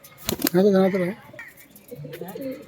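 A high flyer pigeon coos once, a short low throaty call close by, with soft fluttering and someone talking nearby.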